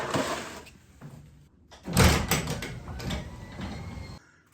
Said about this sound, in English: These are just standard garage doors from Lowe's